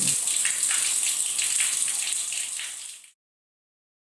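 Water from a tap runs steadily in a loud, close hissing stream, wasted down the drain, before it is shut off abruptly and silence follows.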